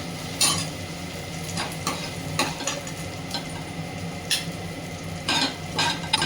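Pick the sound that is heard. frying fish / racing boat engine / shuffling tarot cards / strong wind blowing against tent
frying fish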